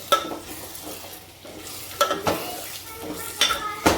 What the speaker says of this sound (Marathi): आता त्याला छान असं फोडणीमध्ये छान परतून घ्यायचे